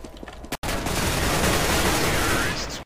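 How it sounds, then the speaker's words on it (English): Gunfire in Counter-Strike: Global Offensive, a dense burst of rapid automatic shots lasting about two seconds, loud and close, after a brief sharp opening shot. "I'm gonna shoot him up."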